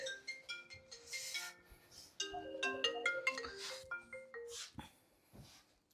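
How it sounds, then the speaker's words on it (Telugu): A phone rings quietly at home with a bright, melodic ringtone of repeated chiming notes and short pauses, faint and alone with no one speaking over it. "మనోళ్ళని అనుకుంటా ఫోన్ వస్తుంది"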